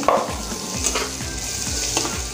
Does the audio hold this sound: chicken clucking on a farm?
no